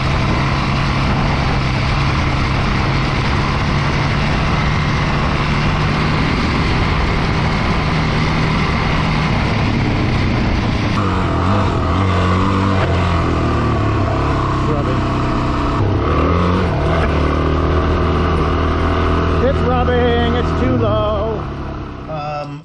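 A Suzuki DRZ 400S fitted with lowering links is ridden, its loud, steady engine drone rising and falling through gear changes against constant wind rush for the whole stretch.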